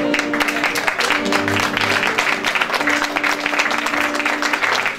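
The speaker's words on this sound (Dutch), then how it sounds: "Dus een daverend applaus voor Merle voor ons" Audience applause at a live event featuring traditional Greek songs: dense, continuous clapping from a crowd, loud and steady for the whole stretch.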